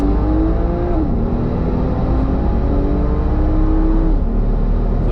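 A Volvo S60 T6 Polestar accelerating hard at the Nürburgring, its engine note climbing loud and continuous through rising revs with brief dips at upshifts, heard from inside the car.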